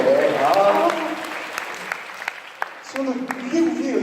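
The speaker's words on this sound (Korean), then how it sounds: "박수 한번 쳐주세요, 서로에게" An audience at a church high school youth summer retreat claps for one another in a short burst of applause, with a voice speaking over the clapping.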